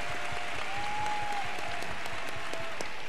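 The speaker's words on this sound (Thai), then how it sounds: "ปรบมือได้ค่ะ" Applause at a motivational talk event, a steady wash of many hands clapping from an audience, fairly distant and sustained throughout, with no speech.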